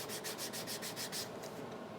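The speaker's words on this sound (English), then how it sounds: "sand this down just a little bit with our 150 grit" A leather edge is rubbed with 150 grit sandpaper in about ten quick, even back-and-forth strokes that then taper off, soft and close.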